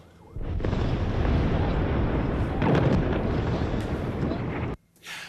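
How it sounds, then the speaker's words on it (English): Heavy, continuous rumbling blasts from overnight explosions over the Gaza Strip, loud and sustained for several seconds with dense low-end roar, then cutting off abruptly into near-silence. "Overnight explosions rocking the Gaza Strip as Israel orders a full siege on the Palestinian territory."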